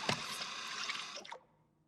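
Water pours into a mixing container in the video game Bakery Simulator, a steady splashing stream lasting about a second before stopping, close and fairly quiet.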